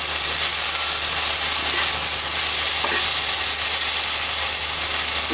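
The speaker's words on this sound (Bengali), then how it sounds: "ভেন্ডি ভাজি হচ্ছে" Sliced okra (bhindi) frying in a pan gives a steady, loud sizzle and hiss that never lets up, with faint stirring scrapes and no voices.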